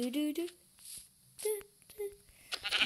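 Sheep bleating in the video game Minecraft, several short wavering bleats at close range, separated by brief pauses with faint game sounds underneath.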